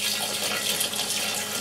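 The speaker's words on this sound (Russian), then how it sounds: "я буду добавлять сюда фильтрованную воду" Filtered water pours steadily onto blue plums for making wine, a continuous close splashing rush of liquid with no pauses.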